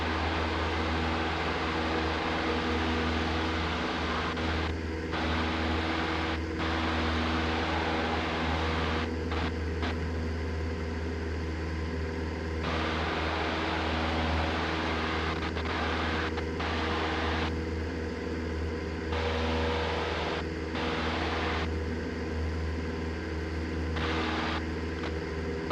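A Cessna 172 at full power in the climb gives a steady, droning engine roar inside the cabin, constant and even throughout, with short radio or intercom clicks breaking in now and then.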